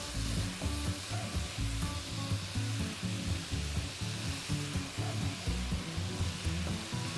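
Mushrooms frying in a pan with leeks and onions, a dense, continuous sizzle close up with occasional stirring clatter and no talking.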